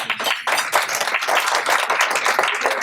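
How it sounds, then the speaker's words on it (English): A crowd at a senior luncheon claps steadily throughout, dense overlapping handclaps forming sustained applause at fairly close range. "We give them a round of applause."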